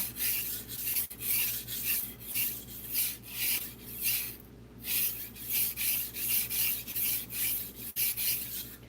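A kitchen knife is drawn back and forth across a sharpening stone in steady, rhythmic rasping strokes, loud and close, with a brief pause midway.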